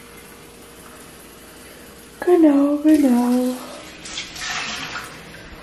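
A litre of water pours into a cooking pot, a soft splashing rush that rises after a short burst of nearby talk and carries on at moderate level.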